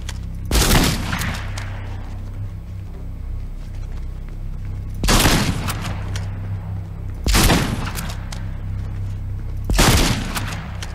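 Gunfire in the video game Fortnite: four loud, separate shot bursts spaced a few seconds apart over a steady low in-game rumble.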